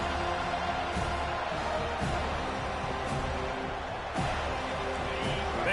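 Virtual stadium crowd in College Football 25 cheering steadily, a dense wash of roaring fans with scattered whoops through the whole stretch.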